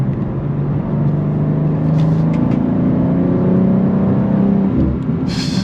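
BMW G87 M2 with the S58 engine revving, a steady loud, continuous engine drone with rising and falling pitch, close and unbroken for several seconds, no talk.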